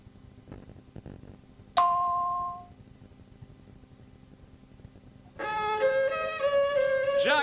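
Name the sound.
answering machine message beep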